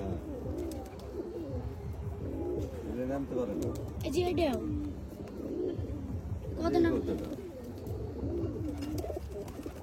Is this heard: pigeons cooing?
yes